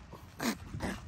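Puppies whimpering in two short, close bursts, a soft whine followed by a brief yip-like cry, with quiet gaps between them and no talking.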